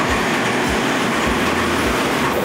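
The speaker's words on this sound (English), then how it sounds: "That's my train right there." A train rolls steadily through a station in Japan, a loud, close, continuous rumble with rhythmic wheel clacks over the rails, alone without talk.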